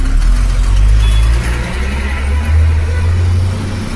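Taxi riding through Mumbai city traffic near Dadar, with a steady low engine rumble and road noise filling the cabin, swelling slightly as it moves on, loud and continuous with no talking.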